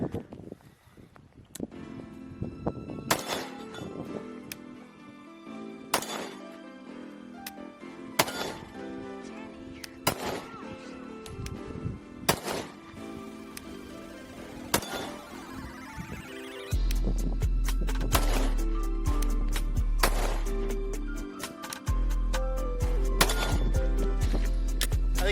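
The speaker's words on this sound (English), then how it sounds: "Let's get back to shooting." Repeated Glock 43X pistol shots at outdoor shooting practice, sharp loud cracks spaced a few seconds apart, with a low steady hum and rustling filling the second half.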